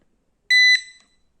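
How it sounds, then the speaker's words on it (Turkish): A Nokta Accu Pointer pinpointer sounds its gold tone: one short, loud, pure electronic beep with a steady pitch that tails off quickly, alone against silence. "Altına verdiği ses de bu."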